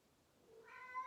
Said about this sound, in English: Sylvester, sorry about the cat noise.